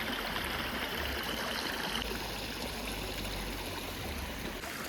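A clear stream flows steadily close by, a continuous bright rushing trickle and gurgle with no talk over it.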